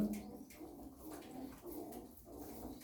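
Tumbler pigeons kept by a breeder cooing softly, low repeated coos in a steady rhythm over faint background noise, fairly quiet and close.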